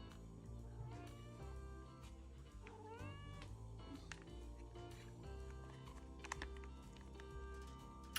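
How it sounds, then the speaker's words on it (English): A pet cat gives several soft, quiet meows over a background of paper crinkling and light tapping, nearby but gentle, with no talking. "Can you hear him? Yeah, the little meow."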